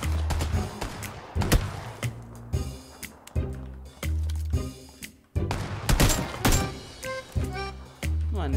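Shotgun blasts from a bot ring out in PUBG Lite, with a series of loud, sharp gunshots at irregular intervals, each followed by a brief decay, mixed with other game sounds and no talking.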